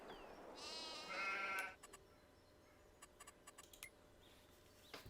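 Sheep on a farm in Farming Simulator 22 bleat in a drawn-out wavering call, followed by a scatter of faint clicks and taps over a quiet background hiss.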